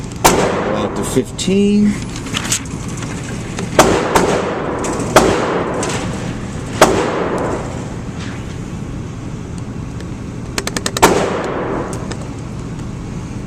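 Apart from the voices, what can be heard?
shooting Beretta 92X pistol, round review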